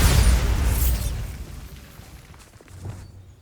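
A Bombarda spell blast in Hogwarts Legacy, a loud booming burst that hits at once and then fades into a rumbling tail over about three seconds, with a smaller thud near the end.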